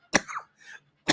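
A single sharp cough opens, then a brief throat clearing or breathy follow-through, and a second cough lands at the end, close and fairly quiet with no talk.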